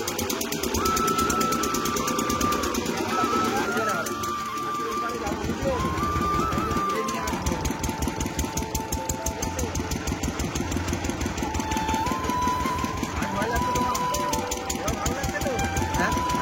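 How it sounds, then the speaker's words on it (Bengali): Motorboat engine running steadily on a river, a continuous close mechanical drone with rhythmic pulsing that carries through the whole stretch while people talk over it. "বন্ধুরা এখন যাচ্ছে নৌকাতে"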